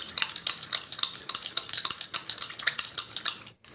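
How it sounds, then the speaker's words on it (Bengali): Mustard oil and sugar being stirred into a cream, a rapid, continuous clatter of a spoon scraping and tapping against a bowl, close and fairly loud. "আর দেখো সর্ষের তেলের সঙ্গে চিনিটা মিশতে মিশতে একদম ক্রিমের মতন কিন্তু তৈরি হয়ে যাচ্ছে"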